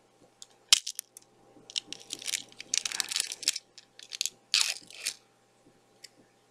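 A flavored, Pac-Man-shaped fortune cookie snaps and is broken apart by hand, giving a sharp crack followed by clusters of dry crunching and crumbling, close and fairly quiet, with no talking.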